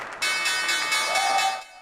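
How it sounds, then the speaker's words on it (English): The opening bell at the New York Stock Exchange rings as a loud, sustained electric clang that starts abruptly and holds for over a second before cutting off. "The opening bell at the New York Stock Exchange may have been rung by dancers from the fairy tale ballet, The Nutcracker"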